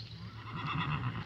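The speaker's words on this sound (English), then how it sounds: "It is so nice to see these horses right here." A horse on a farm in the woods gives a clear, fairly close whinny lasting about a second, with no voices.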